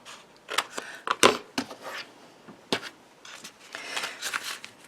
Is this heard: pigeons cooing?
no